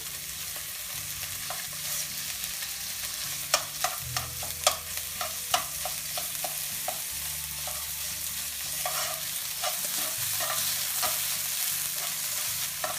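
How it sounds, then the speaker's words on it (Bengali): Pieces of salmon and onion sizzle in a hot frying pan for a salmon cream pasta, with a spoon scraping and clicking against the pan in irregular strokes over the steady close frying. "আমাদের মাছ এবং পেঁয়াজটা ভাজি হয়ে গিয়েছে"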